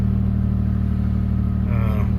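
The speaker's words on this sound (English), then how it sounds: "I know it's idling a little high" A 1989 Toyota pickup engine, cold after sitting unused for a long time, idles high with a steady loud low hum and even pulsing, a brief higher sound rising near the end, and a voice speaking over it.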